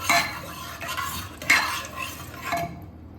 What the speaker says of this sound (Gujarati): મિક્સ કરી લઈશું. બધી વસ્તુને મિક્સ કરી લઈશું.